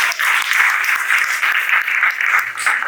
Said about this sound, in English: Please let's give her some applause.